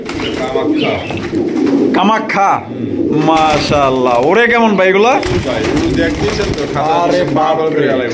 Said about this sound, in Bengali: দেখতেই পাচ্ছেন মার্শাল্লাহ উড়ার রাজা এক জোড়া কবুতর